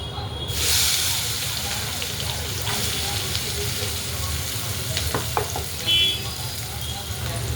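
Chopped onion frying in hot oil with cumin seeds as it is stirred: a loud, continuous sizzle throughout, with spatula scrapes and a few clinks against the pan.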